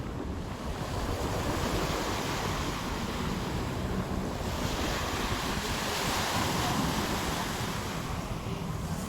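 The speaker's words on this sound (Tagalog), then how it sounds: "Ang sarap ng simoy ng hangin mga bayan" Steady sea breeze at the Manila Bay beach sweeps across the microphone in a continuous broadband rush, with surf-like swells rising and easing under it and no voices.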